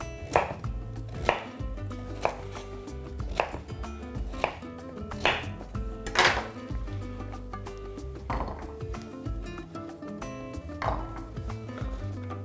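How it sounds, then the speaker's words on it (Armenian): Potatoes being finely chopped with a knife on a board for stuffed eggplant, a steady series of sharp, close chopping strikes. "կարտոֆիլը կտրատում ենք"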